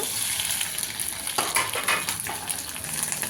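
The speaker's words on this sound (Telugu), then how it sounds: "ఆయిల్ మరిగాక ముందు బెండకాయ ముక్కలు వేయించేసుకోవాలన్నమాట" Okra pieces sizzle and crackle steadily in hot oil in a pan for okra curry, with a few louder spatters and light stirring scrapes, close and continuous, with no talking.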